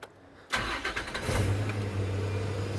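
A Holden VN Commodore engine, its exhaust stuffed with steel wool, cranks and catches after a quiet half second, then settles into a steady, fairly loud, rumbling idle close to the microphone.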